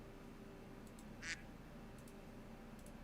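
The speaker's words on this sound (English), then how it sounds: "If you look carefully long enough at the duck's eyes, you'll eventually hear a quack." A duck in the video game Open Roads gives one short, faint quack, alone against a quiet low background hum, with a few tiny clicks scattered around it.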